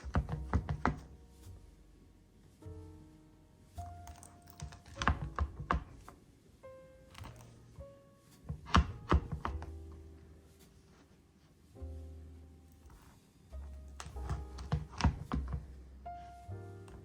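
A knife chops through Christmas fudge in a pan, producing a series of sharp knocks and thunks against the pan in irregular clusters, loud and close, with no speech.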